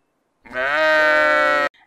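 A single loud, drawn-out sheep bleat sounds close up, wavering for about a second before cutting off abruptly, with near silence on either side.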